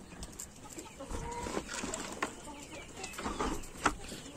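Scattered soft clucks from several chickens over a low, busy background, with occasional sharper calls and no talking.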